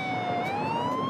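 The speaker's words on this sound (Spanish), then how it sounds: "¿Una ambulancia?" A wailing emergency siren, identified as an ambulance, rises and falls steadily in pitch and stays loud and continuous throughout, with no voices over it.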